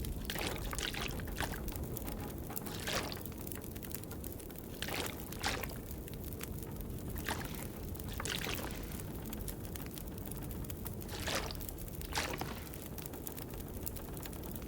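Water pouring and trickling in the survival video game The Long Dark, a steady low wash with several brief louder splashes spread across the stretch, no talking.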